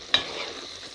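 Chilli paneer sauce simmers in a pan with a soft, steady bubbling hiss, and one brief clack of a stirring utensil near the start.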